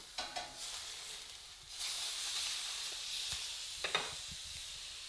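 A steak sizzles in a hot pan just after being flipped, a steady bright hiss rising after an opening few pops and crackles, close and fairly quiet with no talk.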